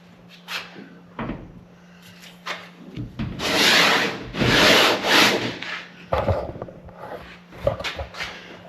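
Hand sanding a Power Wagon door with a long block: rhythmic rasping strokes, some short and some long and louder, close by, with a faint steady hum underneath.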